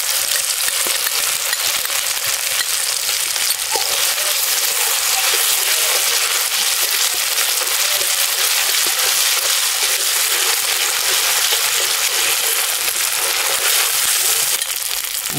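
Tomatoes and spice paste fry in a pan with a loud, continuous sizzle that hisses evenly for the whole stretch, close up and without any voices.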